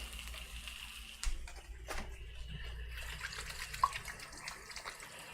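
Hands are rinsed under a running kitchen tap with a steady, soft stream of water and light splashing, faint and close.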